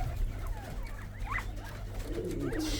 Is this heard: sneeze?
no